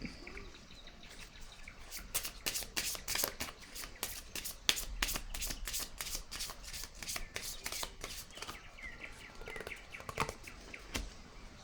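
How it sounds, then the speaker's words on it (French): Cards are shuffled and drawn during a tarot-style card reading, giving a long quiet run of rapid, evenly spaced riffling clicks with a few softer slides at the start and end, and no talk. "Je vais piger une autre carte encore ici"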